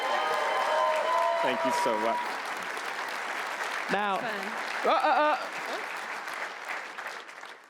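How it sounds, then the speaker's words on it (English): Applause from a keynote audience at a marketing technology conference swells loudly at first, then tapers as amplified voices speak over it from the stage. "Round of applause."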